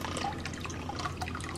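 Water falling into a home fish tank, a soft continuous trickle with scattered small drips and splashes, fairly quiet and close.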